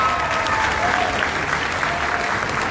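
Steady, dense applause from a large audience at a university welcome event, loud and sustained with no pauses throughout.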